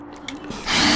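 A power drill boring out a snapped bolt on an MG TF, starting with a few faint whirs and then spinning up into a louder, steady high whine for a brief moment.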